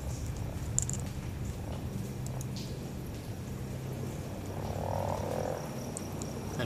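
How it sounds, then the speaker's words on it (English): Soft, low frog croaks in the video game Antichamber repeat in a quiet, watery background, with a faint purring rumble and no voices. "And frogs."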